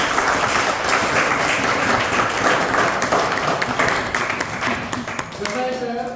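Audience at a talk clapping steadily and densely for several seconds, thinning slightly toward the end, with a voice or tone emerging faintly near the close.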